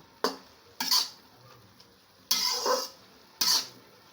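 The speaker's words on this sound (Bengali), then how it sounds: "এবার ঢাকনিটা উঠিয়ে নেব, দিয়ে ঢাকনিটা উঠিয়ে নাড়াচাড়া করে নেব।" Pot lid lifted and metal utensil stirring water spinach with potatoes in a pan, with four sharp clanks and scrapes spaced across a few seconds, close and fairly loud over a quiet kitchen.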